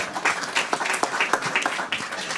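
Audience applause at a startup pitch session: a dense, steady patter of many hands clapping from start to finish, fairly close and without any talking.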